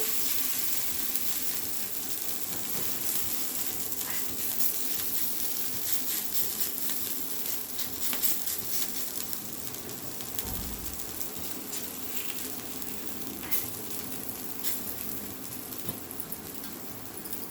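Ragi roti cooking on a hot iron griddle, a steady soft sizzle and crackle running unbroken throughout, close and even in level, with no voices.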